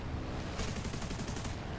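Italian Breda .50 cal aircraft machine guns fire in War Thunder, a loud rapid rattle of shots running continuously over a dense roar of engine and wind noise.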